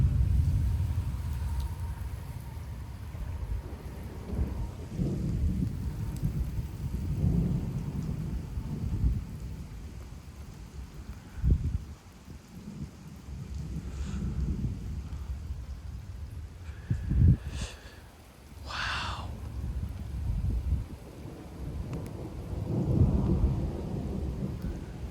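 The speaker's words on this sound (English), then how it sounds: "All it is now is just distant lightning and a little bit of wind." A thunderstorm with 35 mph wind gusts in Frisco, Texas, rumbles with low, rolling thunder over steady rain and wind noise, with a few sharper cracks near the end and no voices.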